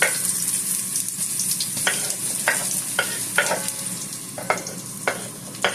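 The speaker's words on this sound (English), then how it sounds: "you add your sliced onions, and you cook those until they're translucent" Sliced onions frying in grapeseed and olive oil, a steady soft sizzle with repeated sharp scraping stirs of a utensil against the pan, close by.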